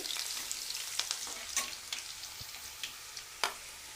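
Green chillies frying in hot oil for a khadi dal masala curry, a steady close sizzle with a few soft taps and crackles, fairly quiet and without speech.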